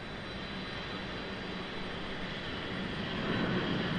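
A departing Airbus A319 jet climbs out from Raleigh-Durham International Airport, a steady broadband engine roar that holds throughout and swells slightly louder toward the end, with no voices.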